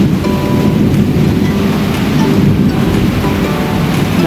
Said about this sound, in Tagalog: Lakas ng kulog parang pag bumagsak ang ulan